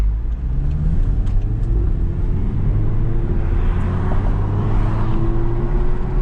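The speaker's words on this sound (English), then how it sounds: "when I hit the gas here, I really want you to kind of hear and kind of feel the way I'm feeling from the cockpit" A 2008 Audi TT accelerates hard from the driver's seat, its engine revving in a loud, steady climbing drone with rising pitch and a constant road rumble underneath, no voices.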